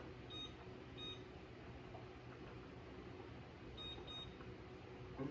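Home oven control panel being set to 400, faint electronic beeps in two pairs of quick presses against a low room hum.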